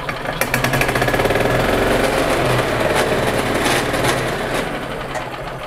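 A 2002 Yamaha G22 gas golf cart engine runs steadily after a drive clutch rebuild and new belts, a close, loud, buzzing idle with a fast rhythmic chatter that holds for several seconds.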